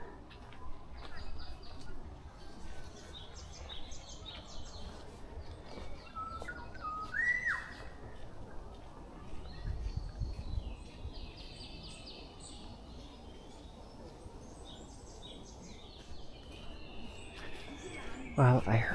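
Early morning birds chirp and whistle sporadically in Bongseosan forest, thin calls scattered at a distance over soft ambient noise, while a person talks quietly nearby and a brief handling bump comes at the end.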